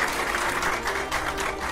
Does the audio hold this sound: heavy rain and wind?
no